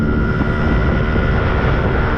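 A stock Yamaha RX100 two-stroke motorcycle engine drones loud and close, a steady rough buzz with a low throbbing beat and no gaps.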